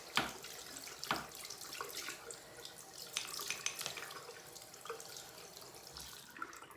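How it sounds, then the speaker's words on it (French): Tap water runs steadily into a sink while paintbrushes are rinsed clean with soap, a soft continuous stream with occasional splashes and drips, fairly quiet and close. "je vais venir nettoyer mes pinceaux jusqu'à ce que l'eau coule claire"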